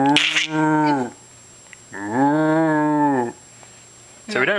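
Loud, close cow moos, two long drawn-out calls with a pause between them, then the start of a third, with no talk over them.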